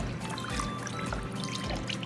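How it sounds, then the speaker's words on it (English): Chicken broth poured over chicken in a pot, a soft steady splashing trickle of liquid, faint and close, with no talk. "I'm just going to pour this all over here until I want this chicken completely covered with chicken broth"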